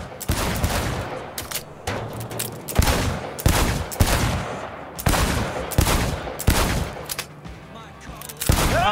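Video game gunfire blasting in heavy, closely spaced bursts, loud and punchy with short gaps between volleys.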